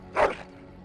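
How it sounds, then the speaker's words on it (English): A dog in the video game Dragon Age: Origins gives a single short bark or yip, fairly close and clear, fading quickly into a quiet game background with no talking. "Yes, he is. He's a good dog."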